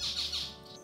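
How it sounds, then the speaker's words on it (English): Pet birds in a farmhouse aviary give a short, loud, raspy squawk close by, over a faint background hum. "Listen to their morning chirps and sounds."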